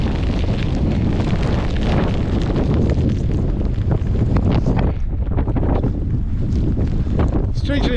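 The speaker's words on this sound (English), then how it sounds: "Wind's picked up." Strong wind buffeting the microphone on an outdoor walk, a loud, continuous roar and rumble throughout with gusting surges and no break.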